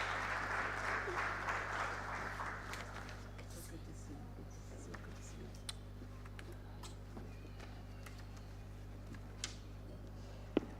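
An audience at a high-level health event on ending TB applauds to welcome a speaker, a moderate wash of clapping over a low electrical hum that fades after a few seconds into a quiet room with scattered small clicks.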